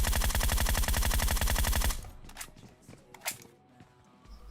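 Groza assault rifle in PUBG Mobile unleashes a loud, rapid burst of automatic fire for about two seconds, then gives way to quieter scattered in-game clatter and distant shots.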